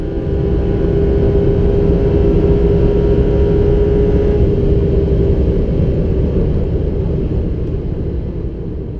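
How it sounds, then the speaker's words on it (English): A Porsche 991 GT3 RS runs at very high speed on a de-restricted Autobahn, heard from inside as a loud, steady roar of engine, wind and road rumble with a constant droning tone and no talking. "The run back to the track sadly involves some de-restricted Autobahn, which means running very, very fast."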